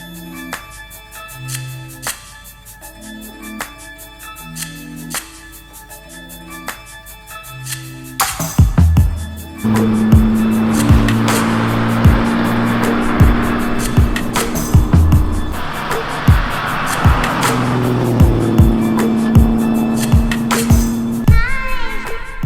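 Classic Ferrari 275 GTB coming off a rally stage on the Tour Auto 2017, its engine swelling to a loud, sustained roar as it passes close by, with sharp revving pulses and a steady mechanical drone following a quieter opening.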